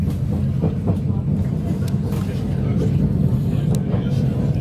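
Sprinter passenger train at a station platform track, a steady low rumble of the train with faint clicks, heard continuously with people talking nearby.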